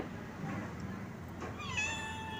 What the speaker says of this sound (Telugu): క్యా పిల్లి వచ్చిందండి